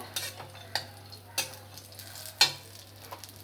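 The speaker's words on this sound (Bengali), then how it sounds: "কিশমিশটাকে খুব ভাজবো না, একটু জাস্ট নেড়ে চেড়ে নেব।" Raisins and cashews stirred briefly in hot ghee in a pan while cooking semai payesh, with a faint steady sizzle and a few sharp spoon scrapes against the pan, no talking.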